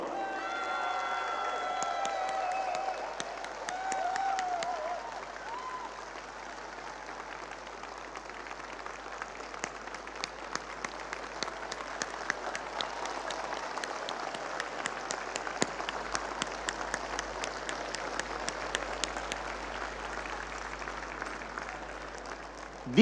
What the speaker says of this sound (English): Stand up and applaud your efforts, your achievements, your success. This applause is for you people.